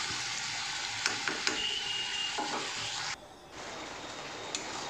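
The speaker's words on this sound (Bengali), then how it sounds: "আর এটাকে একটু ভালো করে আবারও নেড়ে ছেড়ে ফ্রাই মতো করবো" Chicken kosha fries over medium flame in a pan, a close, steady sizzle with a few sharp clicks of a spatula stirring, dipping briefly before resuming.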